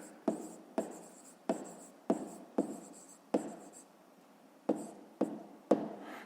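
Numbers written out for a fifth-grade math exercise, with sharp pen or chalk taps and strokes coming in uneven bursts, close and clear, no talking.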